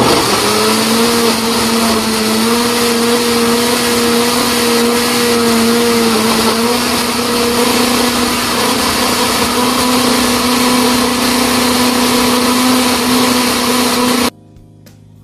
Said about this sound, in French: ça, c'est mon ninja Mixer